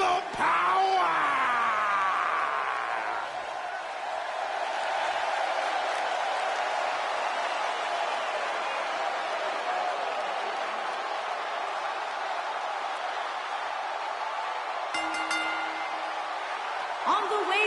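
Crowd cheering and applause from a wrestling arena in WWE 2K18, a steady loud roar running the full length with brief louder swells and some announcer-style voice near the start.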